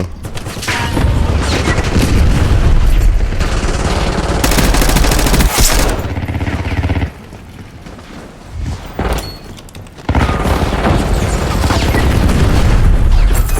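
Heavy automatic gunfire and booms in Call of Duty Black Ops 6 Warzone, loud sustained bursts broken by short quieter gaps before the shooting resumes.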